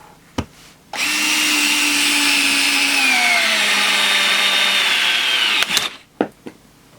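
An electric precision screwdriver, either a Wowstick 1F+ or a Tonfon, runs with a thin, high motor whine for about five seconds, its pitch sliding slightly lower as the small screw tightens. A few clicks and taps come just before it starts and just after it stops.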